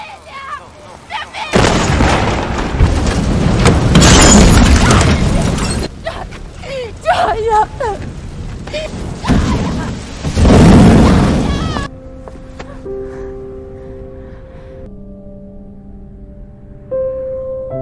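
A loud car explosion in a film, followed by roaring, crackling destruction with heavy rumble, then the din drops away to quiet musical tones.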